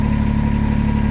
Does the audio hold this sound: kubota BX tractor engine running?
yes